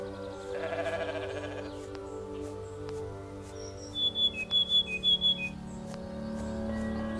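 Goat bleating in The Stillness of the Wind, a farm video game: a burst of short, nasal cries near the middle, fairly close and clear over a quiet musical background.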